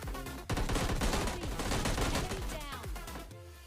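Rapid gunfire from the PUBG Lite mobile game fills the clip in dense, fast bursts of loud shots that rattle on and overlap, pausing only briefly near the start.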